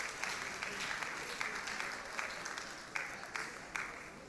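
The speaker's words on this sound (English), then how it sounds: "Please give me a round of applause." Audience applause at a late king's birthday event, a steady wash of many hands clapping for a surveyor being honoured, with a few sharper claps standing out, fairly faint and distant.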